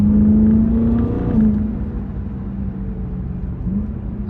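BMW E92 M3 with a DCT gearbox pulls close and loud with a steady low engine drone, a rising rev flare near the start and a brief blip later, suggesting quick downshifts without talk.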